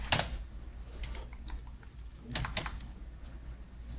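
Keys clatter on a computer keyboard in irregular bursts of quick clicks with pauses between them, close and clear over a faint steady hum, with no talking.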